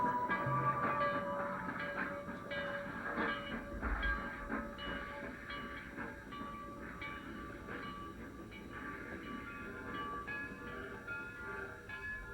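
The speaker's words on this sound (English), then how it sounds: "That's the train to New York." A train rumbles steadily along the rails with a low, continuous roar and faint clatter, no voices, holding at a moderate distance throughout.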